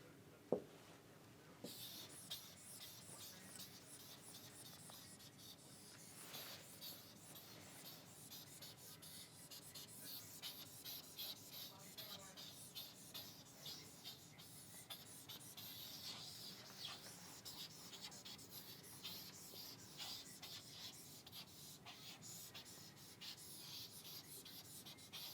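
A physics teacher wipes a classroom board with long, steady rubbing strokes, soft and continuous, with occasional faint knocks and no talking.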